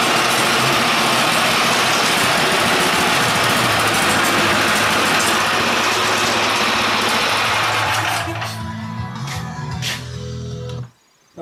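A small chainsaw engine runs at a loud, close, buzzing rumble, then drops to a rougher idle and cuts out near the end.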